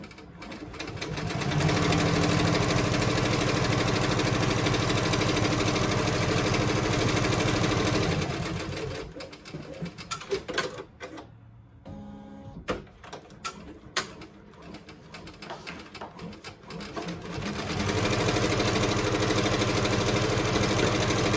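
A Ricoma EM1010 embroidery machine stitches an in-the-hoop Santa hand sanitizer holder, its loud, steady mechanical whir running for several seconds, stopping briefly with quieter clicks and handling noises, then starting up again.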